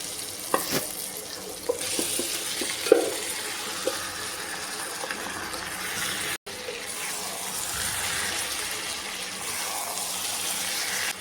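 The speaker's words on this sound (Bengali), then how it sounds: "এবার আমি ম্যারিনেট করা মাংসটা দিয়ে দেবো" Marinated chicken frying in a pan, a steady sizzle with a few sharp clinks and stirring scrapes early on. A brief dropout falls midway, then a softer continuous hiss carries on.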